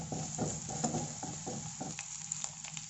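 Curry leaves, ginger and green chili sizzle in hot oil in a pan while making vermicelli upma, a soft steady frying hiss with light stirring scrapes, close and quiet, with no voices.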